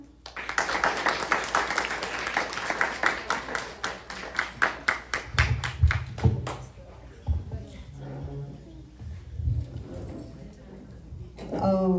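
An audience applauds a girl's recitation of a Sanskrit shloka at a Marathi poetry gathering, a steady patter of claps for about six seconds that then gives way to a voice speaking.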